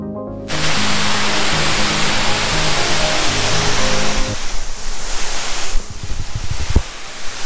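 A mountain waterfall gives a loud, steady, hissing rush of falling water, close by, that later thins into gustier, uneven noise with wind buffeting the microphone.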